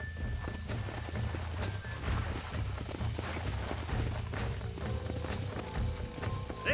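Steady horse hooves clip-clop through Red Dead Redemption, a continuous trotting rhythm at moderate volume with occasional faint snorts and ambient game sounds underneath.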